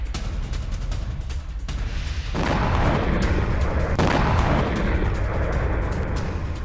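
Loud, continuous roar of explosions and heavy blasts from a drone strike on D-20 artillery guns, with a sharp boom near the middle and dense crackling rumble throughout.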